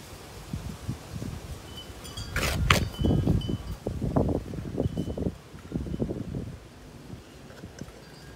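Gusty wind blows outdoors, buffeting nearby in uneven rushes that swell and fade, with a few sharper gusts midway.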